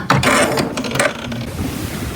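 An embroidery machine stitching the placement of a face mask design, a loud close mechanical whirring and rattling with rapid clattering that fades slightly after the first second, with no voices.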